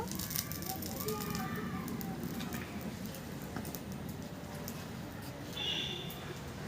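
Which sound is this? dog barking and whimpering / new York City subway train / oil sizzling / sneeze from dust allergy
oil sizzling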